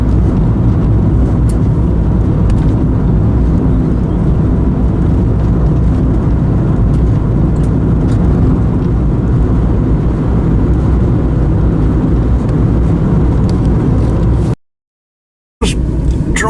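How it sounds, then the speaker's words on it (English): A car races at high speed along a road through a forest, its loud, steady engine drone and road roar running continuously before cutting off abruptly near the end. "Driving along at breakneck speed, ignoring things basically."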